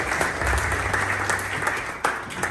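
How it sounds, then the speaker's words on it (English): An audience at an n8n San Francisco demo event applauds Kaila Love, a dense, loud wash of clapping that holds steady before easing slightly at the end. "Big round of applause for Kaila Love."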